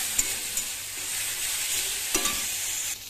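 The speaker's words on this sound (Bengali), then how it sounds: "এবার আমি ভালোভাবে কষাবো যাতে মশলাটা থেকে তেলটা ছেড়ে বেরিয়ে যায়।" Spice paste sautéing in oil with a splash of water for a curry gives a steady, close sizzling hiss, with a few sharp spatters and stirring scrapes.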